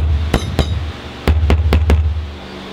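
A hammer taps on the sheet-metal body panel of a 1964 Chevelle under rust repair, giving a few sharp, ringing metallic knocks in two quick groups, close and loud, with no talking.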